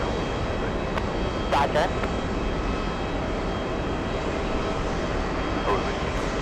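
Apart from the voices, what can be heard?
JetBlue jet airliner taxiing across a runway at JFK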